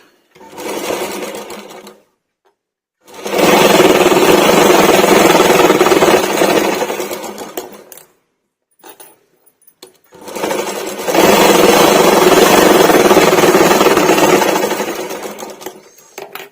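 A sewing machine stitches both sides of a lining and a main fabric layer for a small child's garment. It runs loud and close in two long whirring stretches, each a few seconds, with a brief short burst and a pause between them.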